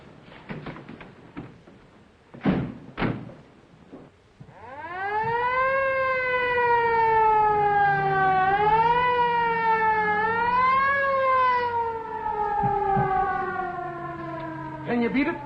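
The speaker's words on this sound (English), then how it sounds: "Follow that ambulance." An ambulance siren in a 1938 film wails loud and close, rising and falling in a steady sweeping tone for about ten seconds after a few sharp knocks, with nobody speaking over it.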